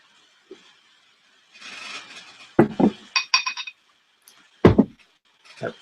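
A beer glass clinks and knocks as it is handled during a tasting of Guinness Extra Stout and Warsteiner Pilsner, several sharp glassy taps and clunks in bursts, close and fairly loud with no talk.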